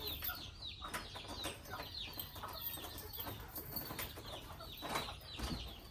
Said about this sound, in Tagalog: Manok. Mga manok.